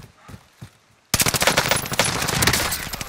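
Call of Duty Warzone match on the Caldera map: a sudden burst of sustained automatic gunfire erupts after a quiet stretch with a few soft thuds, continuing loud and dense with rapid overlapping shots.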